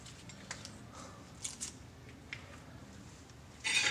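Crinkly plastic packaging is torn and peeled off a new Chevy Silverado front wheel bearing, giving scattered close rustles and snaps with a louder crackle at the end.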